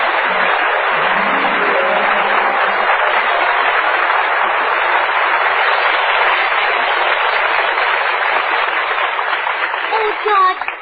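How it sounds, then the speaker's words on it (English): Audience applause outside in an old radio drama: a steady, thin, band-limited roar of many hands clapping fills the whole stretch at an even level, fading briefly near the end. "George, I heard all that applause outside."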